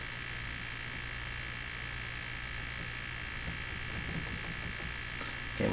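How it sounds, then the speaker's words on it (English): A Hammarlund HQ-180 shortwave radio receiver hisses with steady static, crackling and popping pulses running throughout at a quiet, even level, with no voices. "we'll flip to single sideband because it slows down the popping"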